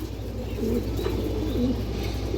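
Low, rolling coos from female Muslim pigeons of the red makra type, several distinct warbling calls repeating close by over a constant low hum, with no voices.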